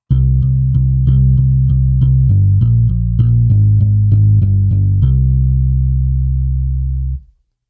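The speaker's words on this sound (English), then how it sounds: "it's a really good electric bass to start out with in the bass template" Modo Bass plugin, an acoustically modeled electric bass, plays a run of deep plucked notes in a steady rhythm, loud and close, ending on a held low note that cuts off.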